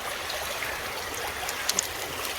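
Creek water runs steadily past a gold sluice on an inside bend of a stream, a soft continuous trickling wash with a couple of brief faint clicks near the end, heard alone with no talking.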